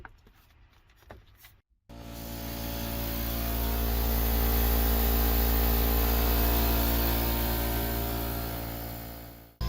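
Air compressor in an enclosed trailer starts up after a short quiet stretch, its motor quickly rising to a loud, steady droning hum that runs continuously and close by.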